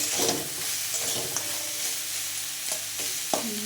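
Pea greens frying in a pan with ginger paste, a continuous soft sizzle with intermittent spatula scrapes and light clinks against the pan, close and moderately loud, with no voices.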